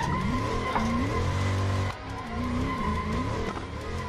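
A BMW E30 Touring drifts on a circuit: a loud, sustained engine note with rising and falling revs under throttle and braking, and a dip around the midpoint, alongside continuous tire squeal.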